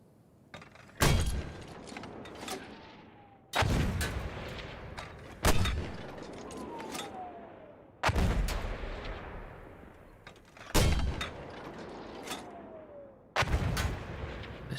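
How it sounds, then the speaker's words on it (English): Mortar fire in Battlefield 2042: six heavy booms land a couple of seconds apart, each a sharp loud blast followed by a rumbling decay. "use that mortar again?"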